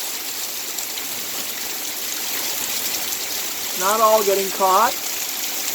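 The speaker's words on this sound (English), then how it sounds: "A lot of water running off the side of the roof." Rainwater pours off a roof and a parking garage deck in a steady, loud rushing wash, with a voice speaking briefly over the flow near the end.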